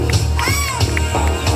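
An American rodeo crowd at a fair cheering and whooping over steady low music, with shouts rising and falling close by; clapping is not clearly distinct.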